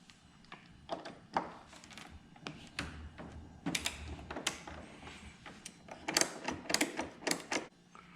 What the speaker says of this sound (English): we have to remove the Allen bolts on each side of the fairing at the base of the turn signals